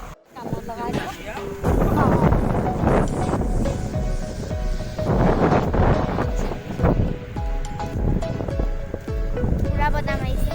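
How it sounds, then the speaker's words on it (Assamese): Strong wind buffets a microphone outdoors, a constant low roaring rumble with gusty swells, while a person talks over it. "পুৰা বতাহ মাৰিছে"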